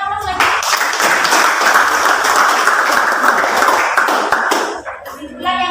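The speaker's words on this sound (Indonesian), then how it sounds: "Berikan aplaus lagi." A classroom breaks into dense, loud applause from many hands that lasts about four seconds and then stops abruptly, with a brief voice at the end.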